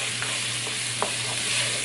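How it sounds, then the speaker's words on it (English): A pan of pork egg roll filling with toasted sesame oil sizzles steadily and loudly, with a few soft stirring scrapes over the brief span. "So let's go ahead and give this a good stir."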